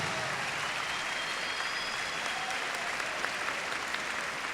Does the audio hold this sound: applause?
yes